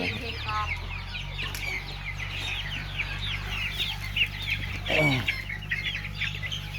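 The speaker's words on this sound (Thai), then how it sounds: "มาดูไก่ครับเป็นรุ่นเป็นรุ่นครับนี่ครับไก่" Many free-range chickens cluck and chatter together nearby over a low mechanical hum, with one louder squawk partway through.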